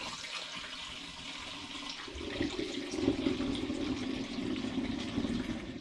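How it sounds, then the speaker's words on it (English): Carrot and orange homemade wine poured straight into a clean glass demijohn without a siphon, a steady liquid splashing and gurgling that grows fuller and louder partway through and keeps running to the end. "So I'm going to pour this now back into a clean demijohn"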